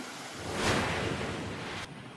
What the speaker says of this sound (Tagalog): Nagmistulang ilog naman ang kalyeng yan sa Atimonan, Quezon dahil sa pag-agos ng baha.